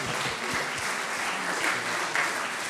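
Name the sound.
applause for a guest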